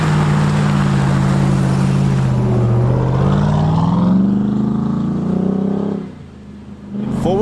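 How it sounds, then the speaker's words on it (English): Pickup truck accelerating through snow in four-wheel drive auto mode with traction control on: a loud, close engine drone climbing steadily in pitch, then easing off and dropping away before a brief rise at the end. "The traction control system really held this truck back, but it accelerated"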